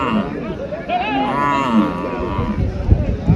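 A loud, drawn-out buffalo bellow rises over crowd murmur and voices at a busy buffalo market in Dhule.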